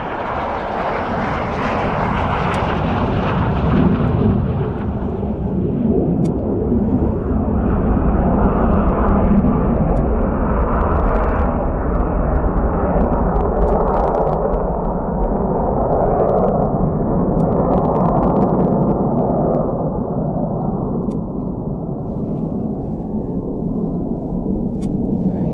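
A military aircraft rumbles through the sky after a performance takeoff at an airfield, a loud, broad, continuous roar that slowly fades and dulls as it draws away.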